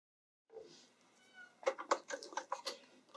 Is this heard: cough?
no